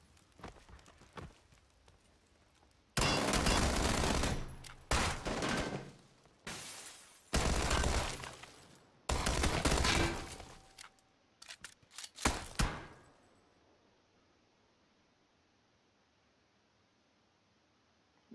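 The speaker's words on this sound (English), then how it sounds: "Tommy gun to the face!" Tommy gun fire in PUBG comes in several loud, separate bursts close by, with quiet background before and after.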